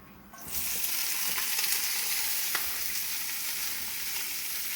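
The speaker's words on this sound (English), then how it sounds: "I chopped up a bunch of cabbage, onion, and carrots. We're just going to saute them in the pan." Chopped cabbage, onion and carrots sizzle in a pan, the frying rising sharply at the start and then holding as a steady, fairly loud hiss with faint stirring, and no talking.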